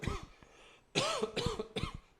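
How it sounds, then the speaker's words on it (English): A man coughs in a run of short, harsh bursts, a few quiet ones followed by three louder, closer hacks in quick succession, with no talk over them. "I started coughing, and the cough wouldn't go away"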